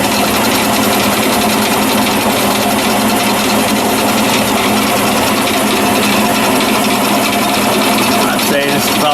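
A dull machining bit cutting a metal brake caliper bracket for a Toyota Celica, a loud, continuous grinding whir that holds steady throughout, with a slight change near the end.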